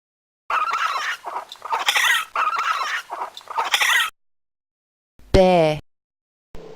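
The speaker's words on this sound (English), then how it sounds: "Raccoon." Raccoon calls in a run of forest animal sound effects: several bursts of raspy, chittering squeals over about four seconds, followed by a separate, louder tonal trill. The sounds are close and clear, with no talking.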